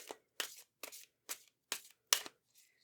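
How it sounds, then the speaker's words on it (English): Tarot cards are shuffled by hand in six crisp, evenly spaced riffling bursts, close and fairly quiet, with no talk over them. "put your cards away here, and let's shuffle"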